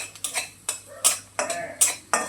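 Dry white wheat semolina (upma rava) being stirred and roasted in a pan for sweet potato halwa, a spoon scraping in repeated clinking strokes about every half second, close and clear with no talk.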